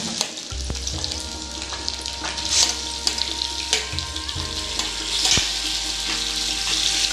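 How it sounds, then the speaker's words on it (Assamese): Meat added to oil and cooked onions fries with a constant loud sizzle, punctuated by stirring clatter and a low steady hum in the background. "তোমাৰ তেল পিঁয়াজ পকি গ'ল ডাইৰেক্ট এতিয়া মাংস দি দিব"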